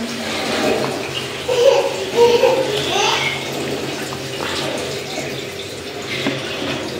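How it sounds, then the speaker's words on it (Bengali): Water poured into a pan of fish curry being cooked down, a steady running splash lasting several seconds, close by and fairly loud. "একটু পানি দিয়ে নিতেছি, মাছটা একটু কষিয়ে নিতে হবে।"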